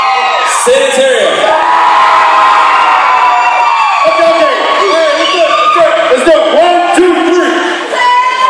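A loud concert crowd cheers, a dense sustained roar of shouts, whoops and yells with repeated surges of voices throughout.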